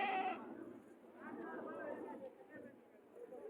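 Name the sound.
goat bleating at a livestock market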